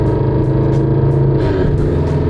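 A Subaru BRZ, Scion FR-S or Toyota 86 running on E85 fuel, its engine and exhaust droning steadily at close range with a loud, continuous rumble and slight rises in pitch as the throttle is worked.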